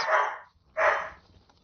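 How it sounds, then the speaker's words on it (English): Two loud, close dog barks from pet dogs indoors, each a short burst separated by a brief pause, with no talking. "They're barking at mommy, trying to get her to play with them"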